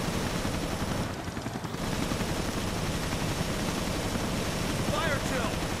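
Steady, dense gunfire from the survival horror game Resident Evil Revelations, a continuous rattle of shots over noisy game ambience with no clear pauses.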